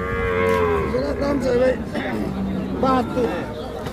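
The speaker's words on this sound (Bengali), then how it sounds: "এখানে এক জোড়া দেশাল ষাঁড় বাছুর আছে" A pair of local bull calves low and moo loudly at a village cattle market near Dhaka, with several drawn-out calls close by over a faint murmur of the crowd.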